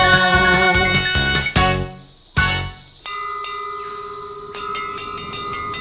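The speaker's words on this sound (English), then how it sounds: "Hey, that's a ship's bell." A ship's bell rings out in a series of loud, resonant metallic strikes, then settles into a sustained ringing tone with a steady hiss beneath it.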